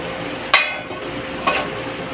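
Igado, an Ilocano dish, being stirred in a pan, with two sharp metallic scrapes of a utensil against the pan about a second apart over a steady low sizzle.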